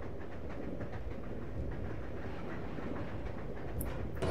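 Steady rumble and rhythmic rattle of a moving train aboard a passenger car in Resident Evil Zero, continuous and moderately loud throughout, with no talk.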